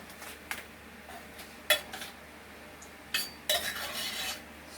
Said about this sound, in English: Stir it up real good and get the cheese sauce dissolved in there.